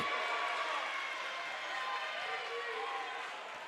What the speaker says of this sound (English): Lomira student section finding something to clap about